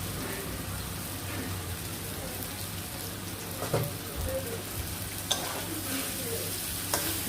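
Egg chow mein noodles being stirred in a pan with tomato sauce, giving a steady close sizzle with soft scraping and a few sharper clicks of the utensil against the pan.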